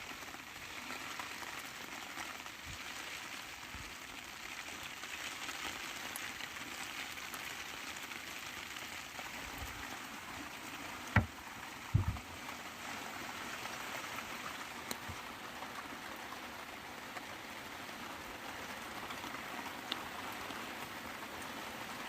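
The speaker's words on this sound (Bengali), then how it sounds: "তো দেখো বাইরে প্রচুর জোর বৃষ্টি হচ্ছে।" Heavy rain drums steadily on the canopy of a river fishing boat, a dense, continuous wash of drops with a couple of brief knocks partway through and no voices.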